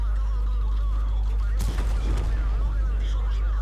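Tank cannon fire in the online game World of Tanks, one sudden loud blast followed by a short rumbling tail over a constant low engine drone, while a player talks.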